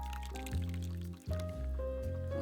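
Water is poured over ground coffee sitting in a paper filter at a camp setup, a quiet close trickle with tonal glugs shifting pitch as the filter fills, no talking.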